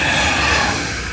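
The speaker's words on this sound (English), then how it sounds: "So here comes the blue train." A steady, loud rumble of a small blue train rolling past close by at the Bauma trade fair in Munich, continuous with a faint metallic whine and no talking.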